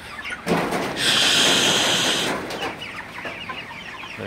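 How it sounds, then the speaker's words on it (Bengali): Broiler chickens ready for sale in a poultry shed, clucking and squawking up close in a dense flock chorus, loudest in the middle, with fans running in the heat. "এই হচ্ছে আমার বড় মুরগিগুলা।"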